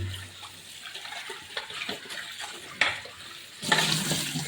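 Water sloshes and splashes in a bowl as something is rinsed by hand, with a louder splash near the end.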